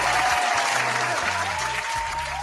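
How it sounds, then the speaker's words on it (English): Steady applause from a crowd, dense clapping throughout with a low hum underneath. "Round of applause."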